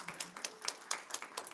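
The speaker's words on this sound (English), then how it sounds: "Could we get another round of applause for our music team?" Applause for a music team at a celebration event, heard as faint scattered hand claps from an audience, fairly distant, with no speech over them.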